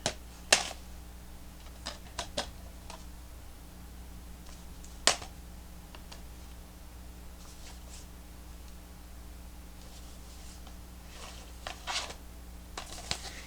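Sporadic clacks and taps of hard plastic DVD cases being handled and shuffled, a few sharper knocks standing out over a low steady hum.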